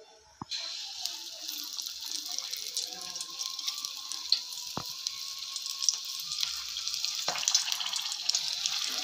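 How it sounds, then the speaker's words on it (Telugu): Green chili fritters (mirchi bajji) stuffed with masala frying in hot oil, a steady bright sizzle and crackle running throughout, growing slightly louder, with a few faint clinks of a utensil. "ఆయిల్ మంచిగా వీటెక్కిన తర్వాత మనం ఎక్కడైతే చీల్చుకున్నామో మసాలా పెట్టుకున్న సైడు ఇలా ఇలా వేసుకొని ఇలా అనుకోవాలి"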